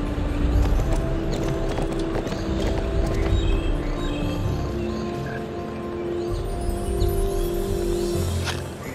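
Horse hooves clip-clopping steadily in Barbie Horse Adventures, a continuous rhythmic trot over game ambience with birds and a faint musical tone, no talking.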